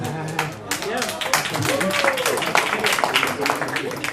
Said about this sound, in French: Il applaudit.